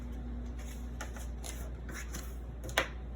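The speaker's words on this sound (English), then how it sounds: "I'm just going to erase." An eraser scrubs on paper in several short, quick rubbing strokes, close and fairly quiet, ending with a small sharp tap.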